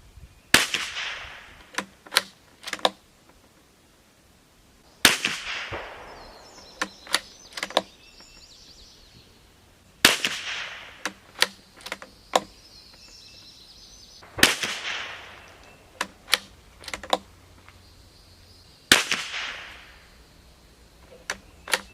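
A Springfield Armory Model 2020 rimfire target rifle fires in evenly spaced groups outdoors, each sharp report followed by several quicker clicks and snaps of the action, repeating about every five seconds.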